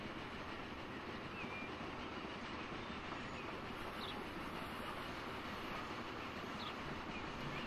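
Trains running along rail track in the video game Transport Fever 2, a steady dense rolling rumble with faint wheel clatter that fills the whole stretch at an even loudness, no voices over it.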